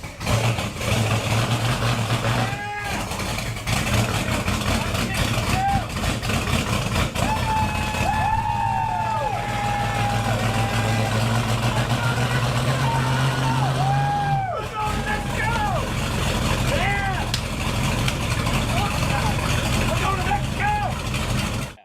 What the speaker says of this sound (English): the part where they put the ether to it and it starts